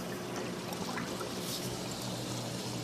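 Water pours steadily down an aquarium overflow tube in a freshwater or saltwater wet-dry filter setup, a continuous close rushing trickle with no pauses and no one talking.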